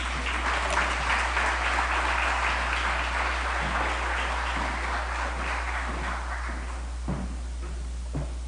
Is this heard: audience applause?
yes